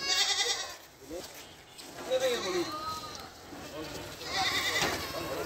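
Goats for sale at a goat farm bleat repeatedly, several calls overlapping at close to middle distance, with a voice talking over and between them.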